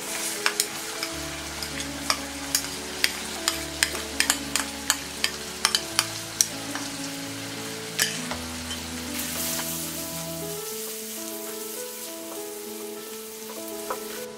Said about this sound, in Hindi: अनियन को हमने 2 मिनट फ्राई कर लिया है